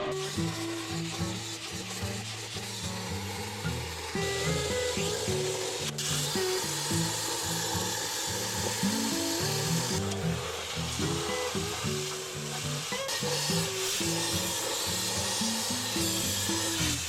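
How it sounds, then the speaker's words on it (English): A plasma cutter cuts metal while a custom mount for a fence pounder is being built, making a continuous harsh hissing, buzzing roar with rough pulsing variations, loud and close, pausing briefly near six and ten seconds. "Is that like a plasma cutter?"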